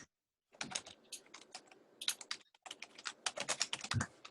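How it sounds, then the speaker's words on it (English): Someone types on a computer keyboard during a Zoom call: quick irregular bursts of crisp key clicks, close and fairly quiet, with a short pause partway through and no talking. "Somebody's typing. I hear them."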